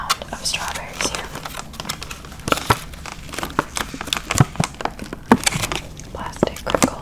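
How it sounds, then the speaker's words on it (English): A plastic strawberry container crinkles and crackles up close in irregular bursts, crisp snaps and rustles mixed with soft whispered speech. "Plastic crinkles"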